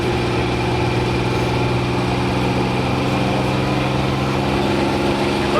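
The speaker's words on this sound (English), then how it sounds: "Once that engine gets wound up really high, we'll have a lot of black smoke come out of that exhaust pipe" A heavy pulling tractor engine with a single turbocharger roars at a steady high pitch at a tractor pull, a loud continuous drone with strong low rumble throughout.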